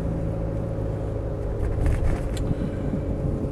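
A Land Rover Discovery 300Tdi ES automatic with the diesel engine running, a steady, loud low-pitched idle rumble heard close up, with a brief slight rise in intensity midway and no misfiring.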